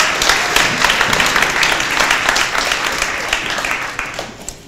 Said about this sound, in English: So everybody, a round of applause for these guys.